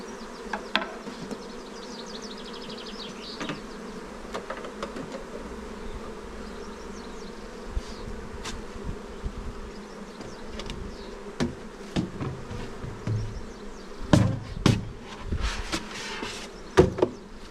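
Honey bees buzz around a hive during a shook swarm, a dense, steady droning hum that lasts throughout. Sharper knocks and bumps come near the end.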